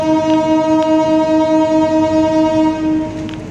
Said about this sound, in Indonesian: KA Singasari kembali diberangkatkan dari stasiun Jatinegara, Jakarta jam 6:02